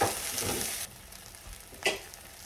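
A tortilla fries in a pan for chicken birria tacos, sizzling loudly at first, then dropping to a quieter crackle, with a brief renewed burst of sizzle near the end.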